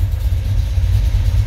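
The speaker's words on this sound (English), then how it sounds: "new oil, idling about 900" A car engine idling at about 900 rpm just after an oil change, a steady low rumble held without change, close and loud.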